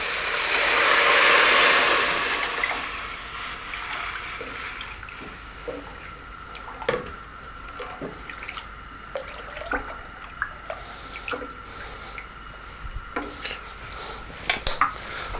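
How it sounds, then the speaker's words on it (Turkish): Cold water pours from a tap into a pot of blanched red lentils in a home kitchen, a loud rushing stream at first that fades into softer splashing, with light clinks of the pot and utensils and no talking. "Blanşe edilmiş kırmızı mercimeği koyuyorum. Ve soğuk suyu içerisine döküyorum."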